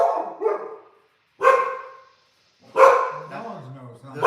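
Several dogs give a few sharp, loud barks in separated bursts, with a voice mixed in among them.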